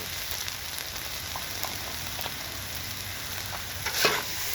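Meat and chili sauce fry on a hot outdoor griddle with a steady, dense sizzle that holds throughout. A brief scrape of a spatula rises near the end.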